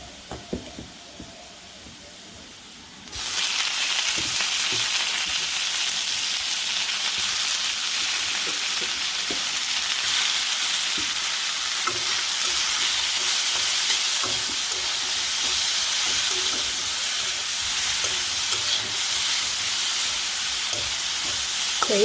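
Bitter gourd and onions fry in a pan, a loud steady sizzle that jumps up suddenly after a quieter opening and keeps crackling with faint stirring ticks throughout.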